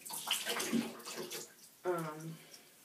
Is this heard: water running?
yes